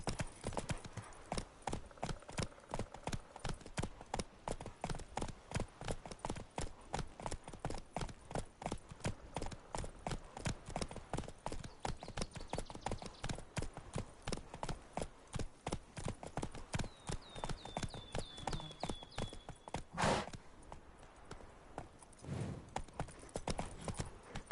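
Horse galloping in The Witcher 3, a fast, steady run of close hoofbeats on ground that continues throughout, with a short whinny-like sound toward the end.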